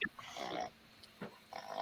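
A dog snoring in a quiet room, three close, breathy, rumbling snorts separated by short pauses.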